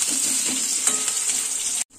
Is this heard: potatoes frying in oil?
yes